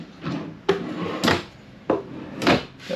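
Drawers in a 2022 Ice Castle 21' Tonka RV sliding open and shut, four or five close wooden thumps and rumbling slides spaced about half a second apart, no talking.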